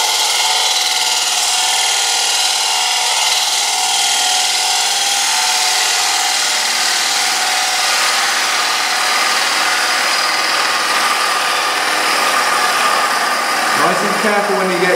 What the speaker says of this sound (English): as we're going across the bottom, we're actually cutting end grain. So we do need to take a little bit of a smaller cut